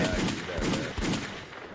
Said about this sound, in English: Let me give it some gunshots.